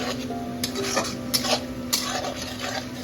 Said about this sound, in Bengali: এখানে রেডি হচ্ছে চিকেনের গ্রেভির জন্য যে পেঁয়াজটা ভাজা হবে সেটা